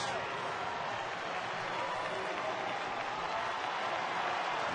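Baseball crowd at a Red Sox home game applauding and cheering the announcement of Mike Lowell pinch hitting for David Ortiz against Texas, a steady, dense roar of clapping and crowd noise filling the whole stretch.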